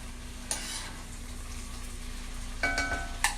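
Sautéed vegetables for homemade dirty rice sizzle quietly in a pan on a kitchen stove, with a steady low hum and a few sharp clinks of a utensil against the pan.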